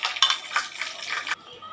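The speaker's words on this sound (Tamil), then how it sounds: "சோம்பு, பட்டை, கடல் பாசிப்பூ போட்டிருக்கேன். இப்போ பொரித்த எண்ணெயில் எல்லாம் போட்டுருவோம்." Fennel, cinnamon and kalpasi hit hot oil for vada curry, giving a close, busy sizzle with scraping stirring noises that cut off abruptly near the end.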